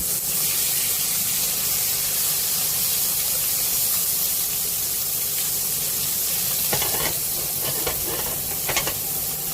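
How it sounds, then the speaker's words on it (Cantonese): Salmon sizzles and spits steadily in a hot wok, a constant hissing fry with a few sharper crackles and pops near the end. "咁我哋放埋啲三文魚落去煎。"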